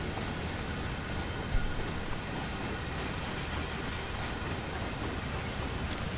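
A long coal freight train of around fifty wagons rolls past in Train Sim World on the Cane Creek route, with a constant heavy rumble and rattle of wagons and faint wheel clatter that holds steady throughout.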